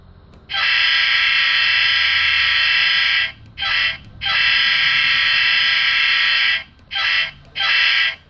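A model locomotive's sound-decoder horn, from an Athearn SD60E with a LokSound 4.0 decoder, blares in long and short blasts, loud and close, with brief gaps between each blast.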